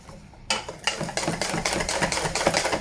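Clafoutis batter stirred steadily with a whisk in a bowl, a run of close, rhythmic scraping taps and rattles repeating about every half second, fairly loud with no voices.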